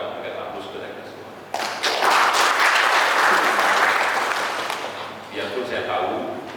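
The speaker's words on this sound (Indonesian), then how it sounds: "Sekali lagi mohon kita berikan aplaus kepada kita semua" A crowd applauds during a regional parliament session, clapping bursting in loud and dense after a moment of talk, then thinning and fading as a voice resumes.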